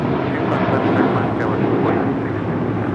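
Airbus A321 airliner at Los Angeles International Airport: a loud, continuous jet roar fills the scene, steady and close, with faint chatter under it.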